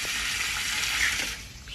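Water gushing under gravity pressure from full 1,200-gallon rain-harvesting tanks, a steady hissing rush that tapers off slightly near the end, close and loud.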